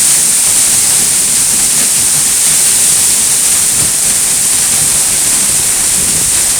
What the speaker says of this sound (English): what it would be like to stand behind the waterfall and look through it